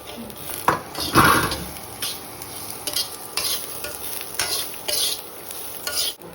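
Dried red chillies fry in a pan while a spoon stirs them, giving a steady sizzle with scraping and clinking of utensil against the pan, close and fairly loud throughout, with no speech over it.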